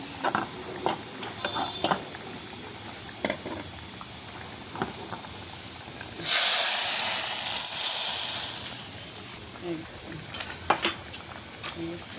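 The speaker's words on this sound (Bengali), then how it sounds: "এখন বাগারের জন্য রসুন আর পেঁয়াজ ভেজে নিছি" Garlic and onion fry in hot oil for a lau dal tempering, a sharp loud hiss that builds suddenly for a few seconds and then fades back, with clinks of a utensil before and after.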